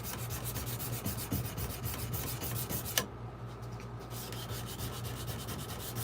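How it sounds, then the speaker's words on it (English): Steady hand sanding on a Damascus steel knife blade in a small shop shed, a continuous scratchy rubbing that runs throughout with a brief sharp knock partway through, close and fairly quiet. "I'm just doing some hand sanding on one of the blades that I'm working on now"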